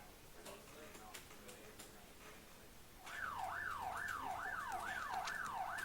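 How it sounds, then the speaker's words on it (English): A rising-and-falling electronic siren in the video game The Getaway: Black Monday wails steadily in a repeating cycle over low background noise, starting partway through after a stretch of quieter ambient sound. "I'm going to turn my siren off at least because it really annoys me"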